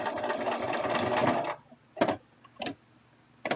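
Sewing machine stitching a small mothman baby plush, a dense run of rapid needle chatter for about a second and a half, then short separate bursts of a few stitches with quiet pauses between them.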